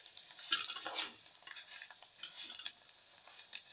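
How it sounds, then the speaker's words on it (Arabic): Rice being stirred as it fries in a pot until golden, with soft repeated scraping and light sizzling at a steady, close, fairly quiet level, no talk. "هو بقلب في الرز بتاعي ابتدى ياخد اللون الذهبي"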